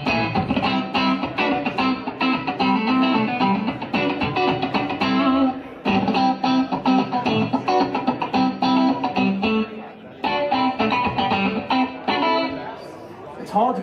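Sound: electric guitar, Line 6 Variax model of 1959 Fender Stratocaster

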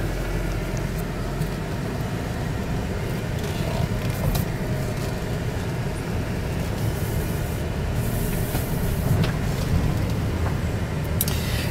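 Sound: 2010 Chrysler Town and Country minivan driving

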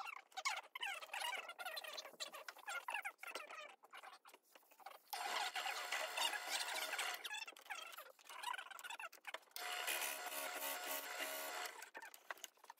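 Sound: 7mm barrel trimmer trimming wooden pen blank down to brass

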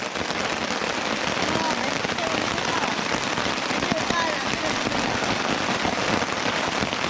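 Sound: rain falling during camping

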